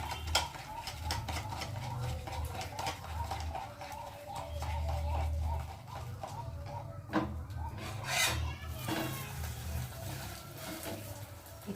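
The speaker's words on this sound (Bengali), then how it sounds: "ডিমটাকে ভালো করে কেটে নেব।" An egg with chopped onion, green chilli and a pinch of salt is beaten in a bowl, a quiet, rapid, rhythmic tapping and scraping of utensil against bowl over a low background hum.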